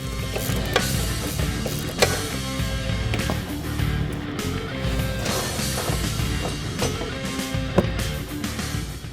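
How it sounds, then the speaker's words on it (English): Ratcheting wrench loosening the top strut-to-tower nut on a 2015-2023 Ford Mustang during a coilover suspension install, rapid clicking and metallic knocks in an uneven rhythm, close and loud. "loosen up that last nut holding the strut to the strut tower, and remove the factory strut assembly"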